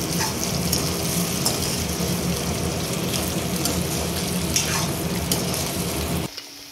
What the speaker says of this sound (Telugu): మనం ముందుగా ఫ్రై చేసుకున్న ఎగ్ని ఇందులోకి వేసుకొని బాగా కలపాలి